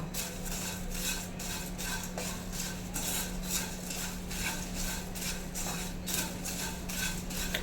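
Flattened rice (poha/aval) being stirred as it dry-roasts in a pan gives a steady, continuous scraping and rustling, with repeated strokes of the spoon against the metal over a low constant hum.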